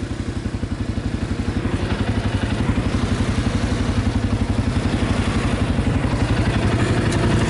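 Motorbike engine passing near an ATV ride with a CFMoto 500 and Konik Z200; a loud, rapid, regular engine pulse that grows slightly stronger and holds steady for several seconds, with no talk over it.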